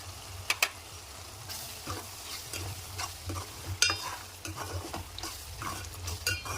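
A spoon scrapes and stirs egg curry with ridge gourd in a pan, repeated clinks and scraping strokes over a soft sizzle, close up with no speech.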